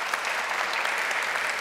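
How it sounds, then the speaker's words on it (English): An audience at a design festival session applauds a speaker, a brief, even burst of many hands clapping together at moderate volume with no voices over it. "A round of applause, please, for Sonia."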